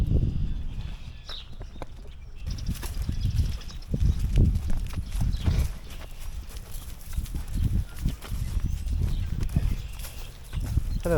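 A donkey walks along a trail, its hooves clip-clopping in an irregular series of close, fairly loud thuds with faint birdsong in the background.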